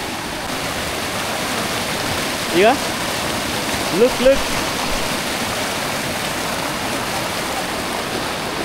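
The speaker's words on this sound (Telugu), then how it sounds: "Only water sound." A mountain stream in Leh, Ladakh rushes in a steady, broad wash of flowing water. Someone speaks briefly partway through.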